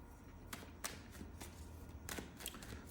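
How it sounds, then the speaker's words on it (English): Tarot cards being shuffled by hand in brief soft riffling bursts, a few quick taps and swishes over a quiet room background. "one more shuffle"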